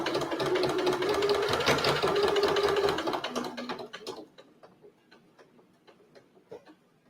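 A domestic sewing machine stitches Italian leather in a loud, fast run of rapid needle ticks, then slows to a handful of separate, spaced clicks as it tacks and stops, close and with no talking.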